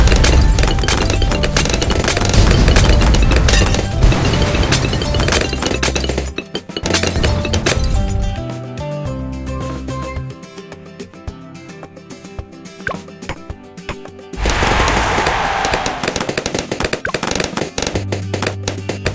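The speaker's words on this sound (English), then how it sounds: "It's all on fire now! Fire bomb!" Fire bomb explosions in the Bloons TD 6 tower defense game make dense, rapid popping and crackling bursts that continue almost nonstop, briefly thinning out midway before building up again.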